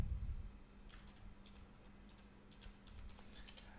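Quiet, scattered clicks of a computer keyboard being typed on during CAD drafting work, short irregular taps over a faint steady hum.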